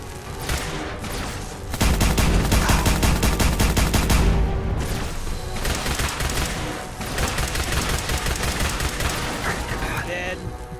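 Fallout 4 combat erupts in dense bursts of rapid gunfire and grenade blasts, loud and continuous with short lulls, while players talk over the action.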